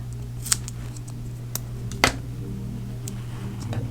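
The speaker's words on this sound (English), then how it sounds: "I'm going to cut this in half." Scissors snipping paper in half at close range, a few sharp crisp clicks spaced apart with one louder cut in the middle, over a steady low background hum.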